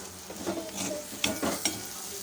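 Lentils and coconut stirred with salt in a pan, a steady soft scraping and sizzling with a few sharper scrapes of the spoon, close and moderate in level.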